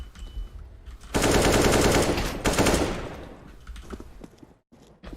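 Rapid bursts of video game machine-gun fire, loud and dense for a couple of seconds, followed by scattered shots fading out.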